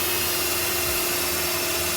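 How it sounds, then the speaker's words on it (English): A wooden bowl is power sanded on a lathe, a steady close whirring grind over the constant rush of dust extraction. "A little bit of power sanding first."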